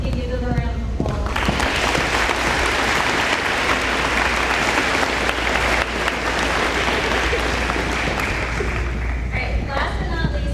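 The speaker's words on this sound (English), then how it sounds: "Can you give them a round of applause?" Audience applause at a spring 2022 senior award ceremony, a loud, steady burst of clapping from a large crowd that rises sharply after a second and carries on evenly for about ten seconds, with some voices mixed in.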